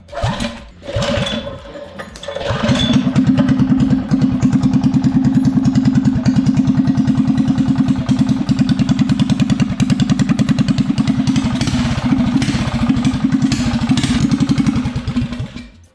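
After a few seconds of clatter and tugging, a small engine sputters to life. It settles into a loud, steady, rapid putter that runs to the end.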